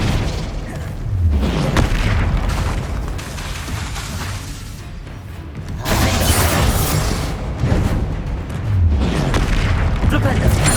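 Flipendo spell blasts in Hogwarts Legacy come as heavy booming, crackling waves of noise. They surge and ease, then surge again, with voices faintly mixed in.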